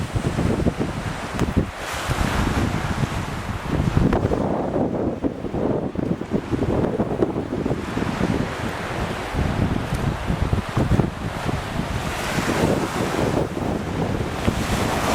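Strong gusty wind roars across the microphone aboard a sailboat in roughly 25-knot conditions, with waves washing and slapping in a loud continuous rush.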